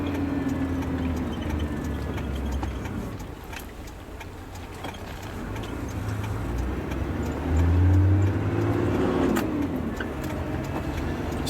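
Steady road rumble and engine drone from inside a car driving through traffic near Grafton, with passing vehicles swelling and fading and occasional faint ticking.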